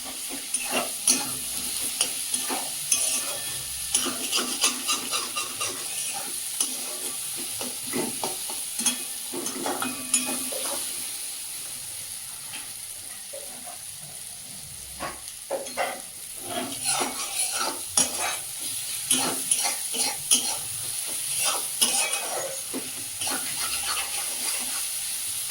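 Masala spices frying in hot oil in a home kitchen pan before meat is added, a steady close sizzle with frequent scraping stirs and clinks of a utensil throughout.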